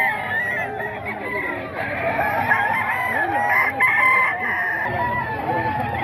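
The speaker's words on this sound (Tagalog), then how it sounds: "Ito mga kaidol, manok ni Sir Nelson." A rooster crows repeatedly, mid-distance and fairly loud, with clucking among several fowl and a steady background hum.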